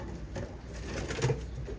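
Racing pigeon cooing inside a loft, a soft low coo against a steady background hum, near but faint.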